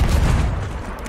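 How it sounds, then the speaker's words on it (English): Ship cannons fire in the naval battle game Sea of Thieves, a dense rumbling volley of booms filling the brief moment and fading slightly toward the end. "I'm shooting cannons"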